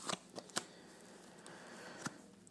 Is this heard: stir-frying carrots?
no